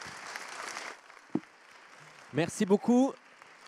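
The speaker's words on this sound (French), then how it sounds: "Je vous demande de continuer vos applaudissements pour remercier Mathilde, Amadeus, Awa et Quentin." An audience claps in a hall at a public event with the French president on youth, a steady patter of applause that fades after about a second before someone speaks briefly.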